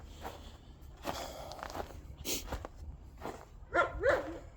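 A couple of short dog barks near the end, faint and somewhat distant, after quiet shuffling footsteps.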